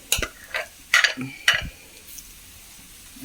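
Crushed tender jackfruit thoran stir-fried in a heavy pan, giving a few separate close scraping and clattering strokes of the spoon over a faint sizzle, followed by quieter moments.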